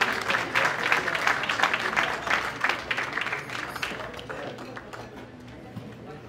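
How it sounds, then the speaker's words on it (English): An audience at a Sikh community Vaisakhi celebration claps warmly in a dense, steady burst of applause that slowly tapers off over several seconds. "Please give him a big round of applause."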